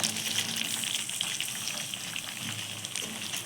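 Plums tipped into a pan of bubbling sugar syrup for a sweet-sour pickle give a soft continuous sizzling, gushing wash of liquid, fairly quiet and even throughout.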